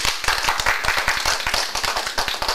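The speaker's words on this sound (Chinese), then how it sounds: "我们也给蓬莱文教基金会一个热烈的掌声" An audience claps briskly in a continuous run of sharp, dense claps at a Toronto live television broadcast, loud and close with no talk over it.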